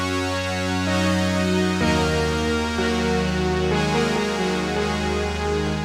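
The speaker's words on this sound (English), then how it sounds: "it's just a digitally generated sawtooth signal going through the whole system here" A bright, buzzy sawtooth tone from a Korg DSS-1 synthesizer, packed with harmonics, holds steady, stepping through a few pitch changes with a slight wavering in the lower notes.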